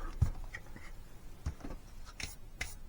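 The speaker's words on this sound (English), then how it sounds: "Okay, so we'll erase those." A pencil eraser rubs across paper while lines of a drawn flag are cleaned up, with a few short, scratchy strokes and soft thumps, quiet and close.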